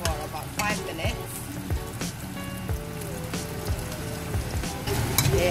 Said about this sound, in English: We slice the ginger and we fry it, saute it for about 5 minutes.